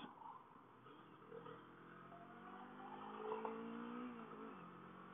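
Road traffic heard from a bike ride home, engines rumbling and a car accelerating past, muffled and moderately close under steady wind noise.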